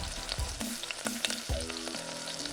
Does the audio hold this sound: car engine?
no